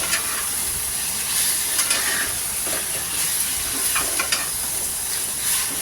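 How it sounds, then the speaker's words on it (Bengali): Chicken is stirred in a hot pan for street-style chicken soup, giving a constant loud sizzle and hiss with scattered scraping clicks of the spoon against the pan throughout, no talking. "এবার মাংসটাকে একটু নাড়াচাড়া করে নেব।"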